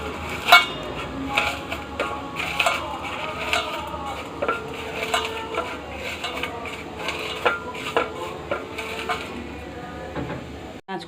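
Dry fried red chillies being rubbed and crushed with salt by hand in a kitchen, a steady scraping and grinding texture with scattered clinks and taps, close by.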